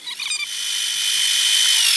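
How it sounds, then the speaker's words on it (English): A lathe turns a small part for a Hemingway spherical ball turner kit: a brief start, then a steady, close high-pitched whine that holds throughout. "So over to the lathe and we'll get this quick part done."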